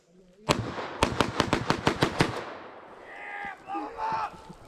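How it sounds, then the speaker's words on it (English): A Phoenix Arms .22 pistol fired outdoors at night, one sharp shot followed by a rapid string of seven more cracks, then quieter rustling and faint voices afterward. "It's a Phoenix arm. It's a little 22 pistol."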